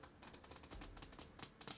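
Two piles of playing cards are shuffled together, giving a quick, close, soft flurry of riffling clicks and flutters lasting under two seconds.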